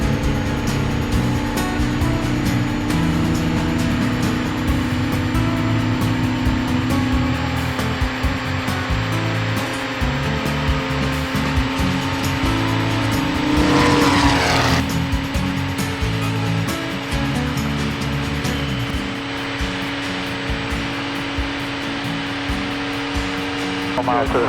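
A Van's RV-10 aircraft with an auto engine conversion runs at 4,000 RPM for takeoff, producing a loud, steady, heavy engine drone that fills the cabin throughout with little change.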